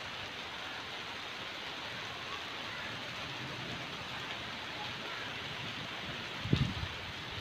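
Steady, heavy rain hisses evenly on a village house's outdoor shed throughout, with a brief low thump partway through.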